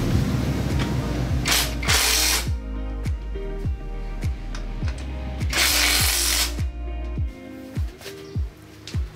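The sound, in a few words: tightening exhaust nuts on a Honda Click V3 motorcycle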